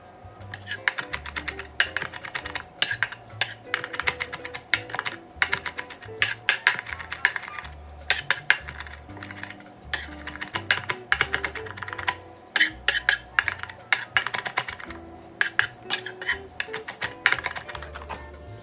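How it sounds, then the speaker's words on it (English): A knife chops fresh rosemary finely on a cutting board, giving a long run of quick, sharp, close-up taps in an uneven rhythm, with no voices. "Chopping it as fine as possible"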